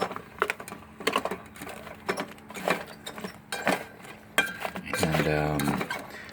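Meatballs are stirred in a rice cooker pot at a portable chuck box camp kitchen, producing quick, close metallic clinks and scrapes in an uneven rhythm, followed by a short rattling burst of the lid or pot near the end.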